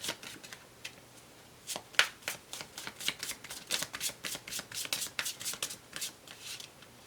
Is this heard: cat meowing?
no